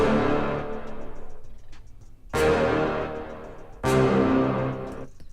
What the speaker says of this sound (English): by default, our brass stab sounds like this